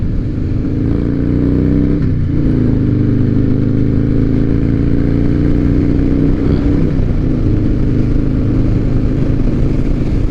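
A 2007 Harley-Davidson Night Train with a blacked-out motor idles loud and close, a continuous low rumbling engine note with slight rhythmic fluctuation and no talk.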